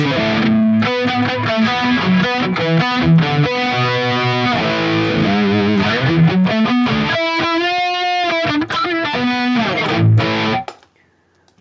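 A distorted high-gain electric guitar through a Sonicake Matribox II Pro with a shimmering chorus effect plays riffs and sustained chords, ending abruptly into near silence.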